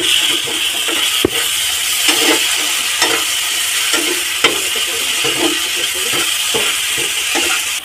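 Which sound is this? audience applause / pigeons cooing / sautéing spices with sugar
sautéing spices with sugar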